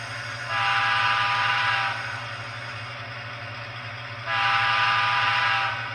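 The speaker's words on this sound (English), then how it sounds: "that doesn't quite sound like the horn he's got" The horn on a Rapido HO scale GMD-1 model locomotive in Waterloo Central livery sounds two sustained, bright blasts, each about a second and a half long, over a steady low motor hum.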